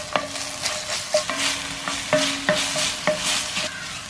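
Sliced onion sautéing in hot oil with ginger garlic paste, a bright crackling sizzle broken by several sharp spatula scrapes against the pan, close up and steady throughout, with no voices.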